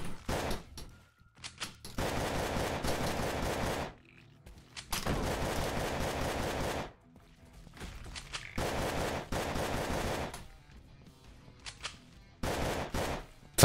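Sci-fi video game Cosmic Call in a demo build, with long, loud sustained bursts of automatic fire alternating with short pauses, each stretch lasting a couple of seconds and repeating across the span.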